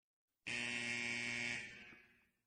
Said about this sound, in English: The delayed buzzer